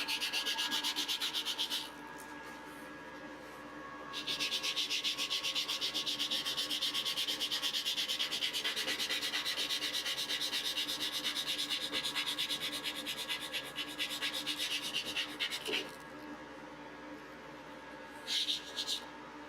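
Sandpaper rubs over an engraved wooden cigar box in long, steady scratchy strokes, pausing briefly between passes and ending with a few short rubs.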